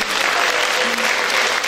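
Brief burst of steady crowd clapping at a children's certificate ceremony in a summer recital concert, dense and even from start to finish.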